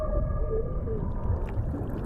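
A humpback whale song underwater in the South Pacific: a sustained tonal moan with short sliding whoops over a low rumble of water, heard alone.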